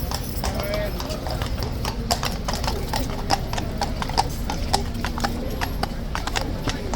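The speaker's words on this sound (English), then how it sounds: "That's obviously the first horse being taken off." Hooves of a Life Guard horse of the King's Guard clip-clop in a steady, close rhythm on hard ground, sharp regular knocks over background noise and talk.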